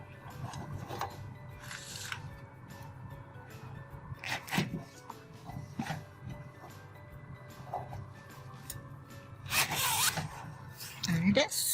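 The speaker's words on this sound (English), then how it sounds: "we're going to test the zipper to make sure it closes correctly" A zipper slider runs along an invisible zipper as it is closed on a sewn pillow. It gives several short raspy zips with small clicks and pauses between them, recorded close up, with a little quiet talk in the background.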